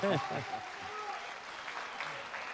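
Audience applause at a televised Turkish pop singing competition in Manisa, a steady wash of clapping that follows a brief bit of a voice at the start and continues throughout.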